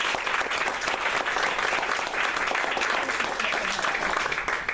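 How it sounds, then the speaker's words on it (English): Audience applause for school board members at a community meeting, a dense, even wash of clapping from a crowd lasting several seconds without pause. "they deserve a round of applause for that"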